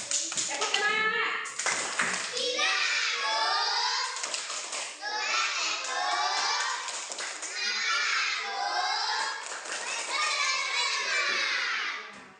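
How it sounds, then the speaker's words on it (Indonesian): A classroom of schoolchildren performs the tepuk semangat clapping chant, shouting rhythmic words in unison with sharp synchronized claps in repeated patterns, loud and close throughout. "silakan dulu tepuk semangat. Tepuk semangat."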